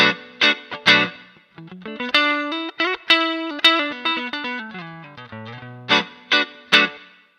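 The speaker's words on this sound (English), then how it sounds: "if you start to combine modern wiring with a treble bleed, it can create some tones that sort of sound a little unnatural" Electric guitar with modern wiring and a treble bleed, played as a run of plucked chords and notes with some effects coloring, clear and close, each attack sharp and decaying over several seconds.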